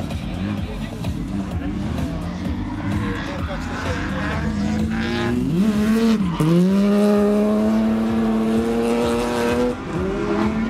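A BMW drifts through a right-hand corner at a 2014 BMW meet, its engine revving hard with a loud, rising and falling howl that climbs steadily in the second half, with voices faintly in the background.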